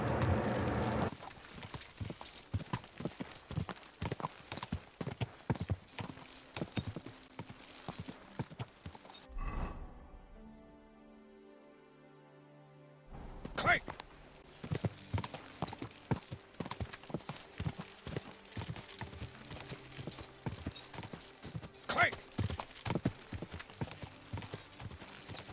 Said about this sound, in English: Vamos subir no cavalo e vamos lá pro objetivo.